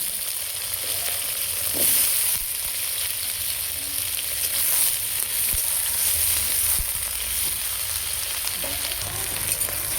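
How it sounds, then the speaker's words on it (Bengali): Potatoes and onions frying in the leftover oil from frying okra, a continuous dense sizzle heard up close, with faint stirring and occasional soft knocks and no speech throughout. "ওই তেলেতেই আলু পেঁয়াজ দিয়ে দিলাম হালকা করে ভেজে"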